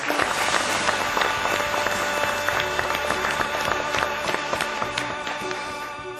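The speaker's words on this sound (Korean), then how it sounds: "박수로 맞이해 주시기 바랍니다." Applause from a church congregation during a Sunday worship service, a dense, steady wash of clapping with some louder individual claps, held at an even level and fading slightly toward the end.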